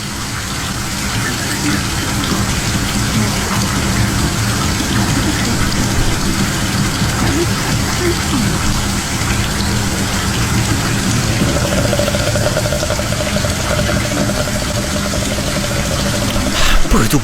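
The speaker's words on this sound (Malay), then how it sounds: "bathtub masih lagi nak penuh, belum penuh habis" A bathtub fills from the tap in a steady, loud, continuous gush of running water, with a faint tonal hum joining partway through and a brief knock near the end.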